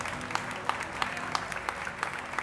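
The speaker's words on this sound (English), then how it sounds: "Give him a hand clap of praise." A church congregation claps hands in praise during a Church of God service, quieter distant clapping with a steady rhythmic accent on each beat over a soft murmur and faint music.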